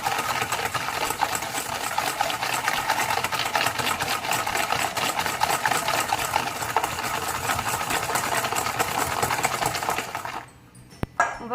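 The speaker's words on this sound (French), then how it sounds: "on va mélanger nos jaunes d'œufs avec le sucre" Egg yolks being whisked with sugar for tiramisu, a dense, rapid, continuous scraping and clicking of a whisk against a bowl, loud and close, ending abruptly with a few faint knocks.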